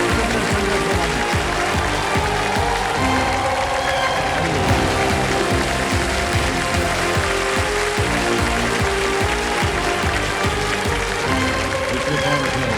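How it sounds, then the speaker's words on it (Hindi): A television quiz show studio audience applauds a returning contestant with dense, continuous clapping, mixed with music and a host talking over it. "सोमा जी के साथ तालियां बज जाए"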